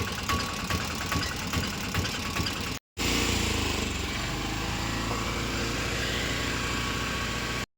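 A Mahindra Alfa auto rickshaw engine, just fitted with a repaired self-starter motor, cranks briefly, cuts out for a moment, then catches and settles into a loud, steady idle that runs on without voices.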